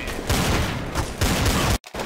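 Gunfire in Counter-Strike: Source, loud rapid bursts of automatic shots in several runs, broken by a momentary cutout before firing resumes.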